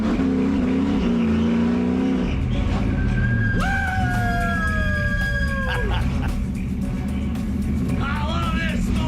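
A race car at an ARCA race at Charlotte drives through the pit stop area, a loud continuous engine drone with rising and falling whining pitch, under crowd and commentary noise with voices talking.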